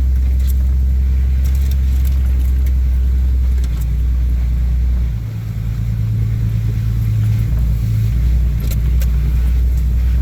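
An old truck grinds through mud holes on a rough West Virginia holler track, its engine a steady loud low rumble throughout, with a dip and slight rev partway through.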